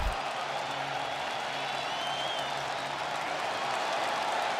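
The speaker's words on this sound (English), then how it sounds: "Here comes the crowd." Baseball stadium crowd at a Padres–Cubs regular-season game in the eighth inning, a steady broad roar of cheering and murmur that holds evenly throughout with no distinct voices standing out.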